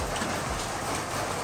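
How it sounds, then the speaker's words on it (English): Heavy rain pours down steadily in a street alley in Hue, a dense, continuous hiss of drops striking surfaces, close and loud with no voices. "It's raining pretty hard."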